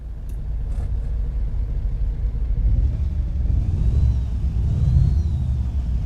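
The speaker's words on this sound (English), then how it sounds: "It's your Scania V8 sound." Scania V8 truck engine in Euro Truck Simulator 2, a Scania LK 140, idling with a steady low rumble after starting, swelling slightly as it revs, heard alone and fairly loud.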